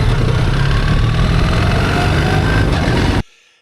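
A BMW 1300GS Adventure motorcycle engine rumbles loudly and steadily at close range, a dense mechanical roar that cuts off abruptly near the end.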